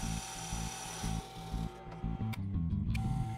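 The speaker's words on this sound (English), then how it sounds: "working with a piece of MDF, marking out the size, and drilling a variety of holes." A power drill whirs with a rhythmic, grinding pulse as it bites into MDF board, then the pitch shifts as the bit works through, close and steady.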